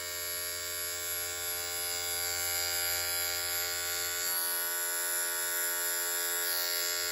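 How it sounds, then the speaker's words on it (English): Electric hair clipper buzzing steadily with a constant motor hum, held close and running without pause; no talk over it. "turn your clipper on, open the lever"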